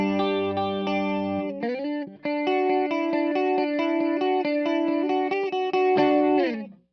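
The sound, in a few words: guitar with chorus effect, Fractal FM9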